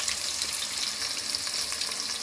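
Onion frying in a pan for a home-cooked Tulu-style dish, a dense continuous hissing sizzle that stays loud and even throughout, with no talking.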